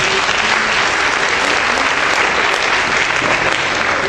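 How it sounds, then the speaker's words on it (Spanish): Sustained audience applause fills the whole stretch, a dense, steady wash of many hands clapping at a constant loud level with no break. "Un aplauso a ustedes."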